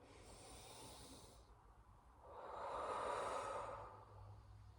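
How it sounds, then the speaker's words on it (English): A single slow, deep breath drawn in softly and close, swelling into a breathy hiss that peaks and fades over a couple of seconds in an otherwise quiet, calm setting. "take a deep breath in."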